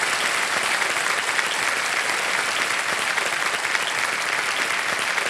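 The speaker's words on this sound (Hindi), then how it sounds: "तालियां बजती रहे इनके लिए।" A KBC studio audience claps steadily for a contestant, a dense, even wash of applause holding at constant loudness throughout with no breaks.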